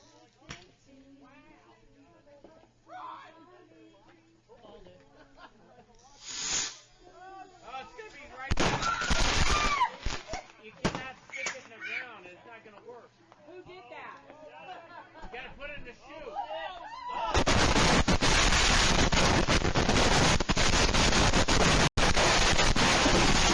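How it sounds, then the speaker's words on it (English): Crackling bursts and pops from shop-bought fireworks set off by adults at a distance, ending in a long, loud roaring hiss of rapid-fire explosions, with people talking in the background. "This is a group of adults setting off bought fireworks from what they believe to be a safe distance"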